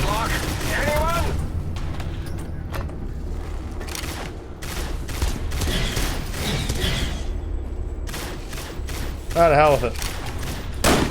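Weapons fire in rapid bursts during an attack in the video game Fallout: New Vegas. Dense, loud volleys continue almost without a break, and someone talks excitedly over them.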